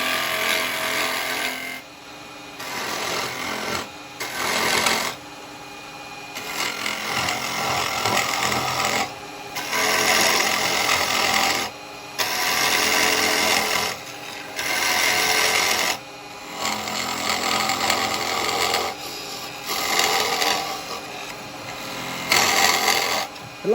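A carbide chisel cuts into a natural-edge firewood bowl spinning on a lathe, giving a loud, continuous rasping scrape that comes in repeated bursts of a few seconds with brief pauses between passes.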